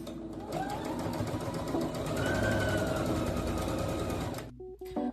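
Sewing machine running stitch 00 at a 2.5 mm stitch length for straight and zigzag stitching, a loud close continuous motor whir with rapid needle clatter that stops near the end, followed by a brief click.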